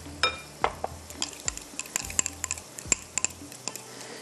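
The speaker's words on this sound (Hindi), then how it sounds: "थोड़ा सा दही भी जाएगा, थोड़ा मसाले को भूनना है।" Masala being sautéed with yogurt in a pan for Kashmiri chicken masala: a spoon scrapes and clinks against the pan in uneven strokes over a soft, low background sizzle.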